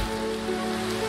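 Steady rain falling in a Minecraft Sevtech Ages world, a continuous soft hiss of drops with a low tonal hum running underneath, even and uninterrupted.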